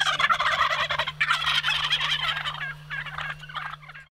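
Wild turkeys gobbling at dawn during a Canada turkey hunt, several rapid loud gobbles overlapping in quick succession close by, over a low steady hum, with no talk.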